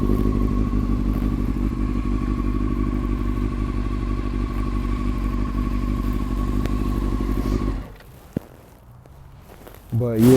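A 2002 Honda CBR 600 F4i motorcycle engine drones steadily and close while being ridden, holding an even hum for several seconds before cutting out abruptly, followed by a brief clatter and near silence.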